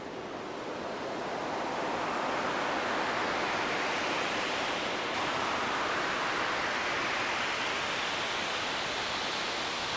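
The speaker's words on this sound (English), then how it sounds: "Apply reverb to the noise to add spatial depth." A Sonicware Liven Ambient Ø synthesizer produces stereo noise soaked in reverb, a broad, steady, surf-like wash that fades in and then holds evenly for about ten seconds, with a slight shift in tone partway through.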